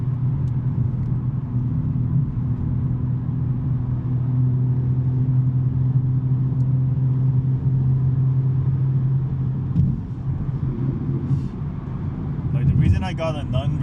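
A BMW M3 with a 6-speed manual gearbox and non-resonated mid pipe cruising, its exhaust a steady low droning rumble heard from inside the car, holding even before shifting near the end.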